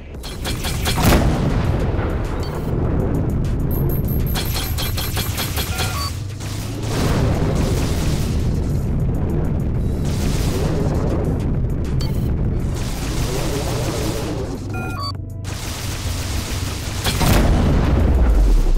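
Heavy missile explosions in the space combat game Rebel Galaxy Outlaw, a run of loud deep booms and bursts over a rumbling engine drone, with short gaps between blasts.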